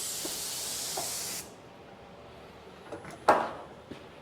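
A Graco 490 XT airless paint sprayer hisses loudly and steadily as it sprays in a shop, then cuts off abruptly, leaving faint clicks and handling noises.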